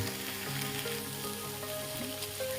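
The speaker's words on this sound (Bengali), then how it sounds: "আরও কিছুক্ষণ এটাকে এইভাবেই ফ্রাই করব" Food fries in a partly covered pan, giving a quiet, continuous sizzle with a soft hum under it, steady and unbroken for the whole stretch.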